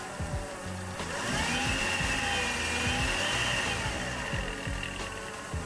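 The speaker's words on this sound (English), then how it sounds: "Smoke machine." A car diagnostic smoke machine runs, a steady close whirring hum with a mechanical drone and a faint rising-and-falling whine, continuous throughout with no talk.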